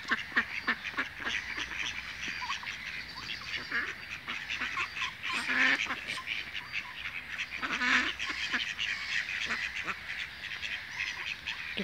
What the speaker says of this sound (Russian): Сколько уточек.